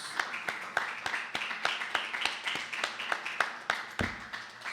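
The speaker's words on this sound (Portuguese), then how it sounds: "Uma salva de palmas do que ouvimos." A congregation at a church service in Americana, São Paulo claps in a quick, steady rhythm. The sharp hand claps sound close and moderately quiet and keep going for several seconds.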